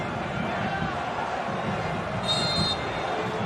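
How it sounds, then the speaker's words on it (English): Steady crowd din fills a stadium during a USA vs Mexico football match near half-time, a dense continuous roar with a faint whistle-like tone rising briefly, voices blurred into the mass of noise. "the general din of the crowd"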